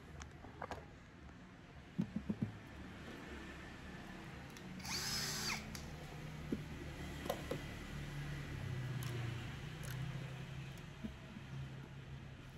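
A power drill fitted with a 3 mm bit whirs in short bursts while drilling during a home installation of an EQ M2 mount. The drilling is quiet, with small taps and handling noises around it.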